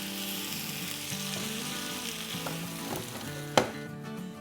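Potato sabzi with green coriander being mixed in a hot pan, a continuous sizzle and frying crackle with scraping stirs and a sharp clank of the spoon near the end.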